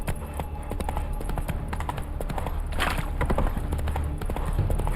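Horse hooves clip-clop steadily in The Witcher video game, a continuous galloping patter under a constant background ambience at moderate level.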